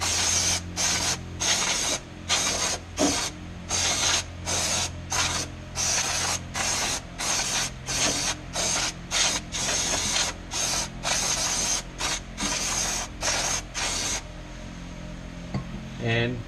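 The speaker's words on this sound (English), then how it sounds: "probably just give it a good brake clean" Brake cleaner sprayed in repeated short bursts on the fuel filter area of an Isuzu D-Max diesel, close and loud hissing blasts in a steady rhythm over about fourteen seconds, then a fading hiss.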